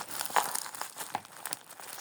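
Soft crinkling and crackling of plastic packaging being handled and pulled open, close up and fairly quiet, with no talking.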